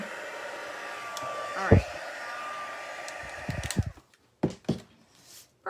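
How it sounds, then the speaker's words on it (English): A heat embossing tool for card making blows a steady, airy whir at low level, then stops as a person speaks briefly with some handling clicks and rustles. "Always takes just about 15-20 seconds for the heat tool to warm up"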